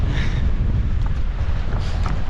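Strong wind on the Isle of Mull in Scotland buffets the microphone during a trail run beside a massive crag, a steady, loud low roar with no one speaking.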